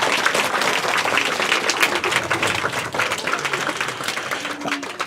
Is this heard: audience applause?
yes